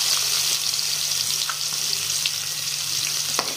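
Finely chopped onions fry in a pan, giving a steady, close sizzle with faint stirring scrapes and no voices.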